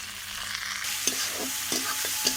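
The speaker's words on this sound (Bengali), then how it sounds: "ভেজে নেবো হালকা করে।" Yardlong beans frying lightly in oil with turmeric and salt for fried rice. A close, steady sizzle fills the pan, with a few regular spatula scrapes as the beans are stirred, and no voices.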